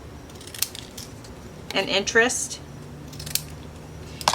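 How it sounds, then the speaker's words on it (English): Jagged-edge scissors cut paper for a handmade Christmas card, giving a short run of close, crisp snipping in the middle amid quiet room tone, with brief speech. "I'm going to use these scissors. They have a jagged edge."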